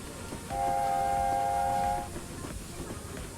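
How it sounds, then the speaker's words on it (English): A train in a railway simulator game sounds a steady horn or whistle for about a second and a half over continuous rumbling rail noise. No one speaks. "we have a train to dodge around this time"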